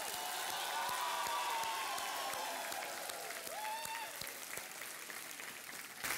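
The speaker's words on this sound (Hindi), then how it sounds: "तालियों के साथ अजय देवगन, सोनाक्षी सिन्हा का स्वागत किया जाए" A television quiz show studio audience applauds to welcome two film stars, a soft continuous patter of clapping under music and a voice.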